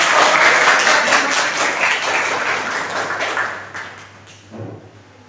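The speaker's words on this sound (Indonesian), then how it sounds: "Beri tepuk tangan untuk" A classroom full of students claps for a presenting group, loud at first and then thinning out and fading, with a few stray taps and a soft thud near the end.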